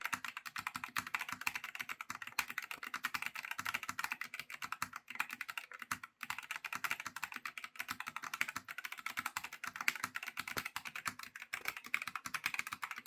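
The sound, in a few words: typing on Turtle Beach Vulcan II TKL keyboard, muffled keys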